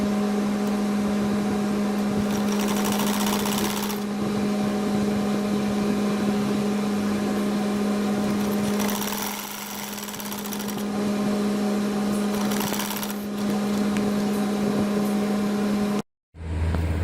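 Sewing machine stitching a button placket on a kurta, a steady humming motor with rapid needle rhythm running nearly continuously, with brief changes in pace before stopping abruptly near the end.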